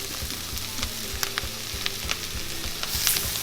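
Garlic, thyme and flour frying in a pan with golden-browned mushrooms, a close steady sizzle with rhythmic scraping and stirring strokes throughout, no voices.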